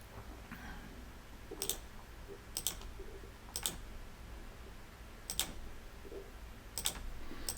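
A computer mouse clicks while someone edits a picture, giving about six faint, sharp single clicks spaced a second or more apart against a quiet room hum, with no talking.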